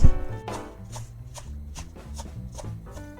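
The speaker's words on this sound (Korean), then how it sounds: "쪽파 썰어 보겠습니다." A knife chops green onions (scallions) into fine rounds on a cutting board, giving about eight crisp, evenly spaced taps close up, alone without talk.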